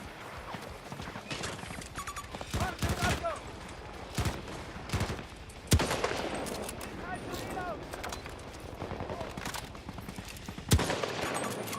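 Gunfire in the video game Battlefield 6, with sharp shots and bursts scattered through a busy, layered battle soundscape, some near and loud, others further off, with voices talking over the action.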